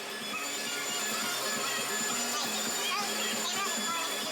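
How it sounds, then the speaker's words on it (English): A Grizzly bandsaw with a 1/2 inch blade cuts steadily, giving a continuous whining, buzzing drone with a faint tonal hum and no pauses. "We'll be cutting it out with that 1/2 inch blade there on the bandsaw. That's the old trusty Grizzly."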